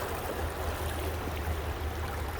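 Yakima River flowing past its banks, a steady broadband rush of moving water, constant and fairly close with no other sounds.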